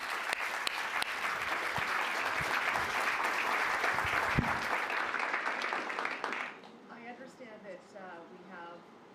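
A large audience applauds after a panel discussion, loud sustained clapping that fades out near the end, where a voice begins speaking over quieter room noise.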